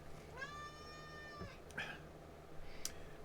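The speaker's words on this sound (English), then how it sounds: "is our kitty, Gracie, coming in to say hello" Gracie, a pet cat, gives a long rising-falling meow followed by a couple of softer short chirps, fairly close in a quiet room with a low hum underneath.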